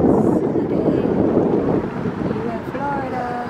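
Steady wind buffeting the microphone on a sunny day in Florida, a constant low roar with water beating and sloshing underneath; a voice speaks briefly near the end.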